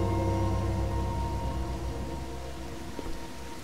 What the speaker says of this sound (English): It's all rainy. I'm getting wet.